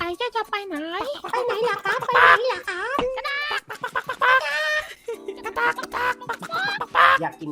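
Chicken clucking in a GTA V roleplay game, with a player in chicken form; the clucks run in quick bursts under and between nearly constant talking.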